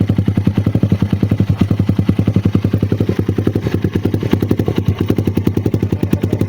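A Suzuki Raider motorcycle idles loudly with a rapid, lumpy exhaust pulse, a steady throbbing beat that stays close and constant throughout.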